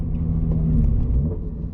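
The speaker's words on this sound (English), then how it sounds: "We go from 3 to 2 while simultaneously hitting the gas." A Subaru BRZ's engine rumbles loud and low from inside the cabin, a steady droning rev during a third-to-second downshift.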